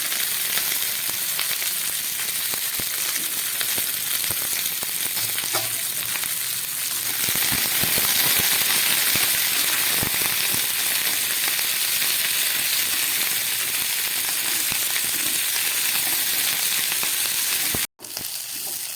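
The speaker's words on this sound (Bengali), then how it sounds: "আলু, পেঁয়াজকালি আর কাঁচা টমেটোটা আমি ভেজে নিলাম।" Potatoes, onion and raw tomato fry in oil in a pan, giving a steady, close sizzle throughout with occasional stirring scrapes and no talk.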